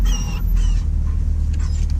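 A dog whimpers and whines in the back of a Jeep Grand Cherokee SRT, giving short high-pitched cries in several bursts over a steady low hum from the car.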